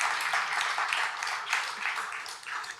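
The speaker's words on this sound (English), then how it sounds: "Clap, please." Audience applause at an award ceremony for the best entrepreneurship book, a soft, even wash of many hands clapping in a hall, steady and unbroken throughout.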